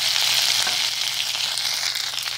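Cauliflower frying in hot oil for a mixed-vegetable spinach curry gives a loud, continuous, close sizzle that crackles steadily throughout.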